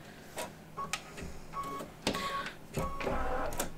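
Embroidery machine sewing tack down stitches, a quiet mechanical whir broken by short bursts of rapid needle clatter and faint high tones, no speech.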